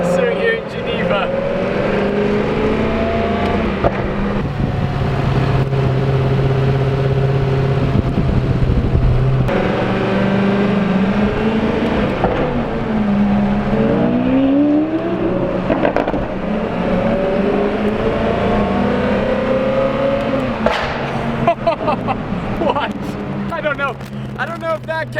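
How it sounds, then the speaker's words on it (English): Exhaust pops and engine roar from a Koenigsegg Agera RS at the Geneva motor show. The car is loud and close, with sharp cracks near the end, and a crowd talks throughout. "That was deafening, the pops from the Agera RS"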